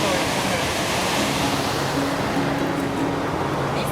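A waterfall in Patagonia throws up heavy spray, giving a constant, loud, broad rushing roar close to the microphone that holds steady for the whole four seconds with some wind buffeting.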